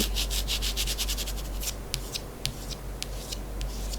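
Fingernails scratch across a plastic mat in quick, close, rhythmic strokes, with sharper scrapes standing out from a soft continuous rubbing.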